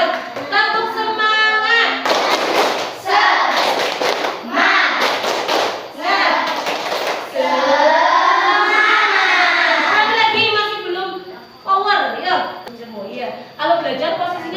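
Fourth-grade classroom children performing a tepuk semangat clapping routine, with loud, close clusters of rhythmic hand claps alternating with group chanting and a teacher's voice.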